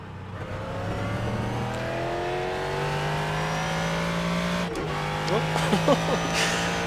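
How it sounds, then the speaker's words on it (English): A race car engine in the iRacing sim game drones at steady revs, its pitch sliding gradually higher, then stutters briefly before rising in short throttle blips near the end. "Just need a throttle blip."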